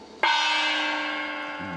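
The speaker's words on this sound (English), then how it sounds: "I like having this gong over here." A single gong strike rings out loud and close, its bright shimmering tone sustaining and slowly fading.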